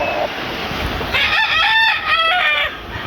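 A bullstag gamecock crows once, close and loud, its drawn-out call standing alone over a faint backyard background.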